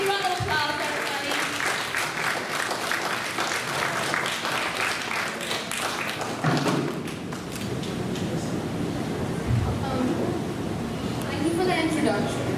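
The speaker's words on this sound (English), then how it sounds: "Big round of applause, everybody." Applause from an audience at a school-related speaking event in Singapore, a steady wash of clapping lasting throughout at moderate level, with a few thuds and crowd noise mixed in.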